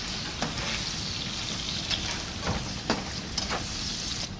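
Fresh tomato, garlic and ginger fry in a pan for egg sauce, making a dense, continuous close sizzle with a few brief louder pops.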